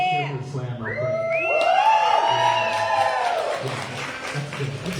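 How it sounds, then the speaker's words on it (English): A crowd at an open mic poetry slam erupts in loud whoops and rising yells, several voices sliding upward together over clapping and scattered shouts before settling back down. "And you go cheer for the slam real quick."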